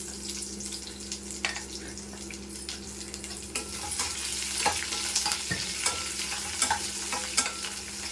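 Onion pieces and curry leaves fry as a tempering in a pan, a steady close sizzle punctuated by repeated spoon scrapes and taps, with no one speaking.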